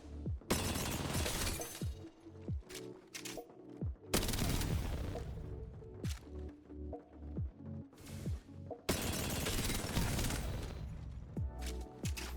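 R-9 fire in Apex Legends aimed at a training bot, with rapid bursts of shots in several sustained strings separated by brief gaps, each volley loud and sharp.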